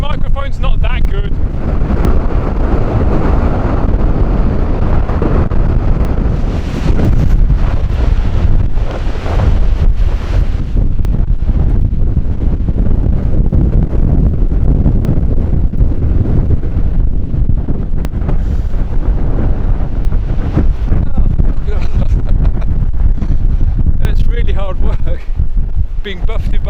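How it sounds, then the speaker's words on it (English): Strong storm wind at Stoer battering the microphone on an exposed coast, a loud continuous roar and rumble with surf-like wash, while someone talks over it throughout. "I don't think I've tried filming in any conditions this windy before"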